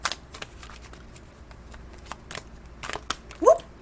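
A deck of angel cards is shuffled by hand in quick, crisp riffling bursts, soft and close, with a sharper snap near the end.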